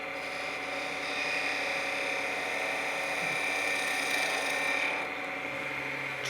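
A skew chisel makes a light finishing pass on the end of a wood spindle turning on a lathe, giving a steady, loud whir and hiss that stays even for several seconds before easing off.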